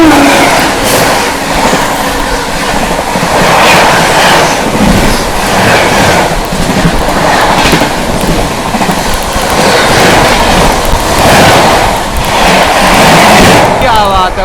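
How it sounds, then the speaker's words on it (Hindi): Oncoming 12423 Dibrugarh–New Delhi Rajdhani Express passing close by, a loud, steady rush of rail noise and rolling wheels heard from a moving train, with a voice talking over it. "चलिए दोस्तों सामने से आती हुई 12423 डिब्रूगढ़ न्यू दिल्ली राजधानी एक्सप्रेस।"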